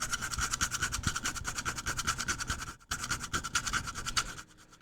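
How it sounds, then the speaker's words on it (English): Scratching the PMM core coating of a computer mouse gives a steady, rough, rasping scrape made of rapid strokes, with one brief pause near the end before it resumes more faintly. "This is what the PMM core sounds like when you scratch it."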